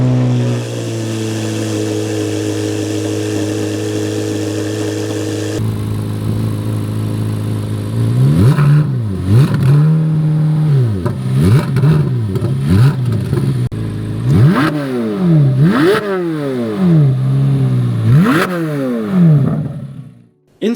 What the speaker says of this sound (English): when you pull both paddle shifters in at once, it allows you to rev the engine regardless of if you are driving or at a standstill